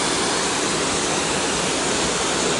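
A big waterfall at Forest Falls, California roars as a loud, constant broadband rush of falling water, heard close and alone without talk.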